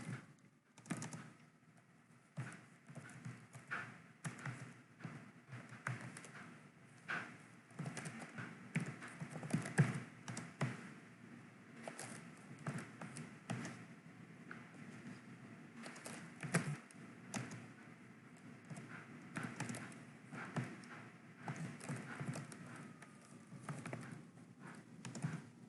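Computer keyboard keys are tapped in steady, irregular bursts of typing, faint and close, with no one speaking, while a server block for hosting several websites is configured.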